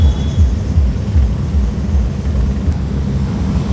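A helicopter flies overhead during a road trip to the Bhadraj Temple, giving a loud, close, deep rumbling throb that stays steady throughout without any talking.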